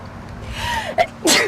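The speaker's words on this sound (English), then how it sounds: "I had to sneeze so badly that time." A single sharp sneeze preceded by a brief inhaling buildup, close and loud, with no talking.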